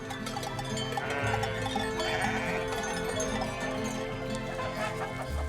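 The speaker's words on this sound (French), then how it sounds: "Des brebis, mais aussi des chèvres" Sheep and goats bleating on a Greek feta farm in the mountains, a dense, continuous flock chorus with overlapping calls and a steady background din, fairly loud throughout.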